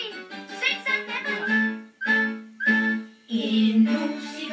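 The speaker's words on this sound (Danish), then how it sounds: "En musiker er jeg, og jeg vil spille musik. Jeg spiller på fløjte." A flute in a Peppa Pig cartoon plays a short, bright melody of sustained notes broken by brief pauses, clear and close.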